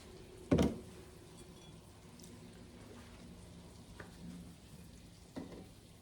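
Chicken strips sizzle in a pan of hot oil with a steady, soft frying hiss, marked by one loud close clatter near the start and a few fainter knocks later.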